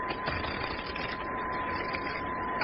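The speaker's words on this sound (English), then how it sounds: "Here, I'll shuffle." A deck of playing cards is shuffled at a table in a radio mystery drama, giving a dense, steady riffling patter that runs close and unbroken for under three seconds with no voices over it.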